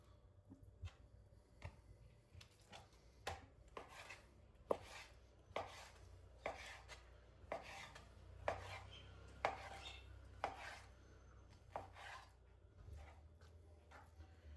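A knife chops chicken steadily on a board, roughly one thud per second, quiet and close, with faint clinks of cookware in between.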